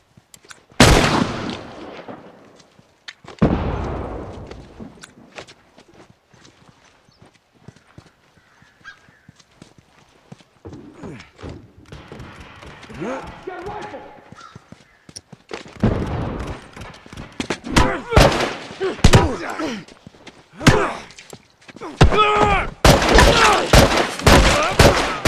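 Rifle fire rings out in The Last of Us multiplayer: two sharp isolated shots early, then a stretch of quieter scattered noise, followed by dense, rapid volleys of loud cracks toward the end.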